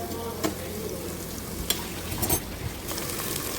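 Chopped onions fry in a pan for soya chunk biryani, a continuous close sizzle broken by occasional scraping and clattering from stirring, with no voices.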